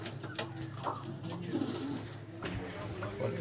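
Pigeons at a market sale coo in low, throaty phrases close by, with people talking and handling noise underneath.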